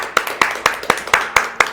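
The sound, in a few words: audience clapping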